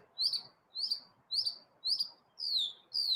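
Small bird singing a repeated chirping call, six evenly spaced bright notes about half a second apart, clear and close against a quiet background.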